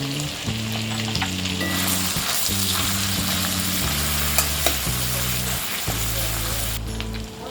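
Finely chopped ginger and crushed garlic sizzle loudly in hot oil and butter on a tava, a dense steady frying crackle with stirring over background music.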